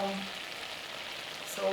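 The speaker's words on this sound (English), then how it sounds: "So my juice is already boiling." A small amount of juice boils in a pan for yellow Nepalese achar, giving a steady, soft bubbling sizzle throughout, fairly quiet and close.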